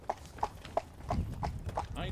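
A working horse walking on a road, hooves clip-clopping in an even steady rhythm of about three beats per second at close range, with a voice speaking over part of it.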